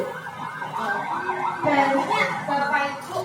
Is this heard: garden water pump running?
no